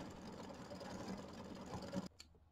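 Embroidery machine stitching a decorative fill and satin stitch on a quilt block, a quiet, steady mechanical whirring patter that runs for about two seconds and then cuts off abruptly.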